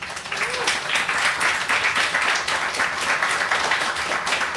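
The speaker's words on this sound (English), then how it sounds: "let's take a moment again to thank and applaud Rachel Zolf" Audience applause for the author Rachel Zolf at a book celebration, steady dense clapping from a room of people that holds evenly throughout, with no talk over it.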